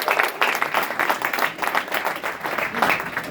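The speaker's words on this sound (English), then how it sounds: "You can clap." Audience applause at a cross-country team banquet, a full room of clapping in uneven rolling surges that stays loud and continuous with no voices over it.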